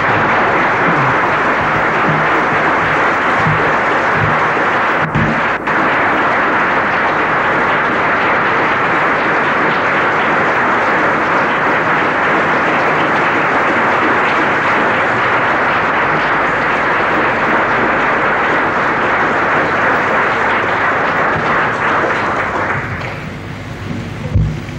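A large audience applauds after an afternoon address, a loud sustained roar of clapping that holds steady for over twenty seconds before tapering off abruptly.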